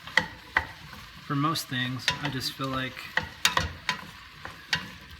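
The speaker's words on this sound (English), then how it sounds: "I like to use a wooden spoon for" A wooden spoon stirs food in a pan while making meatball soup, giving scattered scraping and knocking strokes along with a light sizzle beneath a person speaking.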